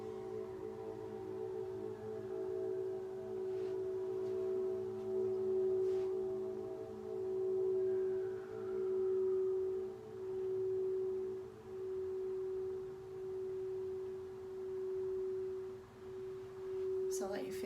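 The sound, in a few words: Crystal Tones crystal singing bowl ringing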